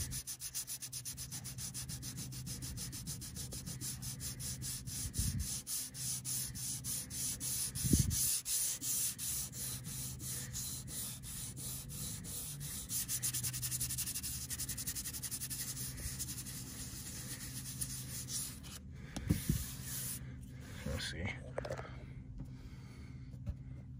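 Steady back-and-forth block sanding of body filler on a Plymouth Cricket car body, a continuous rasping scrape with a few louder strokes and brief pauses near the end.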